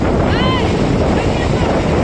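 Strong wind buffets the microphone at Rangbai beach in Porbandar, a loud, steady roar mixed with surf, with faint voices in the background.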